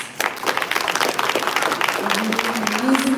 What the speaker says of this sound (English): let's give the children another round of applause